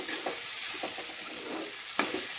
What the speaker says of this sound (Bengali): তো তোমরা দেখতে থাকো, আর অল্প টাইম কষাতে হবে।